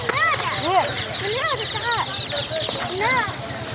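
Chickens cluck and squawk in short repeated bursts, close and fairly loud, over a busy background of noise at a poultry market in Kırıkhan, Hatay.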